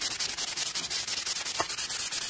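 A gun barrel is rubbed down with 120-grit sandpaper before cold bluing, giving rapid rhythmic back-and-forth scratching strokes, close and steady, with one brief low knock partway through.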